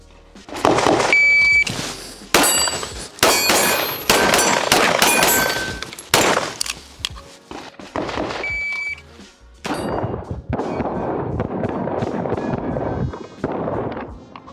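A rapid series of sharp pistol shots rings out in quick bursts at a shooting range, loud and close, with electronic beeps from a shot timer between strings.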